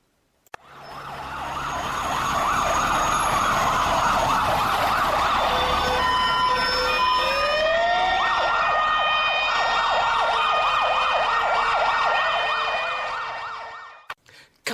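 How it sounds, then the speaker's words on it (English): Two red fire engines and a police car pass with sirens blaring, loud overlapping wailing and yelping tones swelling in, holding for several seconds, then cutting off, with road noise beneath. "just in time to see 2 red fire engines and a police car shoot past them on their way to Mr. Nicholson's farm."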